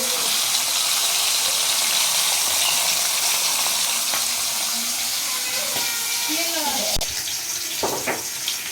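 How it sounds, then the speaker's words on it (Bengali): Two hilsa fish heads dropped into hot oil in a pan fry with a steady, loud sizzle and bubbling that continues throughout, with a few brief clinks and spatters near the end. "আমি এবার ইলিশ মাছের মাথা দুটো"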